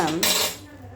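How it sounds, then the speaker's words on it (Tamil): Tea is strained into a vessel, with a brief bright metallic clink of utensils over a short pouring wash that fades within a second, close and without speech. "இந்த டீயை ஒரு பாத்திரத்தில் வடிகட்டிக்கிறோம்"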